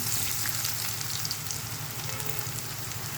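Steady, dense sizzling of soya chunks deep frying in hot oil, continuous and close, with no talking.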